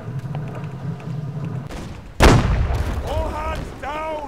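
Naval cannon fire in the game Holdfast: Nations At War, with a sudden loud broadside boom from the ships rumbling on amid battle noise and distant voices shouting.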